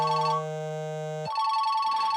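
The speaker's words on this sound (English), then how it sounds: "ringtone" Nokia mobile phone ringtone sample: a clean electronic melody of sustained synthetic tones, one long steady note giving way to a brighter pitch, loud and close with no other sound.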